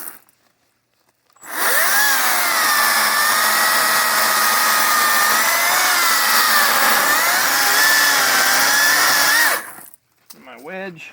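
Kobalt 14-inch battery chainsaw cutting into a dead tree for firewood, a loud, steady electric whine that starts abruptly, runs for about eight seconds with slight pitch wavers under load, then cuts off, with brief clatter afterward.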